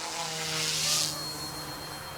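A Yu Xiang F07S RC Huey model helicopter flies nearby, giving off a loud, steady electric motor whine and rotor buzz that swells briefly, then settles to an even drone.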